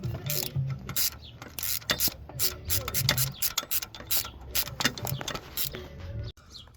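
A hand ratchet unbolts engine bolts on a 2007-2013 Chevy Silverado during an AFM lifter replacement, giving an irregular run of quiet clicks, rattles and metallic taps.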